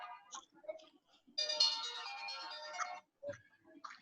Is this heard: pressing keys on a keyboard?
no